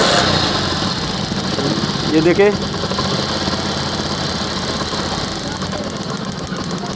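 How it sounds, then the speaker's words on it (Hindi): A motorcycle engine converted to a DC ignition system runs steadily at a low idle after being kick-started, with a voice speaking briefly over the close, continuous putter. "अब हम बाइक को स्टार्ट करके चेक कर लेंगे। लगाएं जी, किक लगाएं।"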